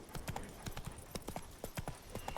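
Hoofbeats of Roach, the horse ridden in The Witcher 3: Blood and Wine, clopping in a steady galloping rhythm, close and fairly even, with no talk over them.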